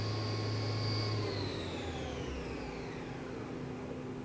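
A Hurco vertical machining center spindle runs with a steady, close mechanical whine and hum whose pitch gradually sinks over a few seconds, with no voices.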